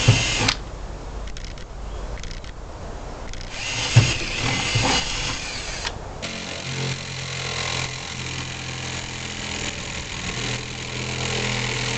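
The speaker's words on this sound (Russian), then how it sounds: "потом просверлю отверстие" A power drill bores a hole in wood during frame house construction. It gives sharp bursts at first, then a steady close whine that runs on to the end.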